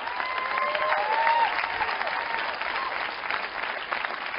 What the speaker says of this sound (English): why are they clapping about the numbers?